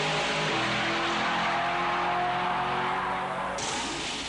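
A 1970 Chevelle drag car running on nitrous roars down the strip, a loud, sustained engine drone with steady harmonics that holds throughout, heard from a distance with no voices.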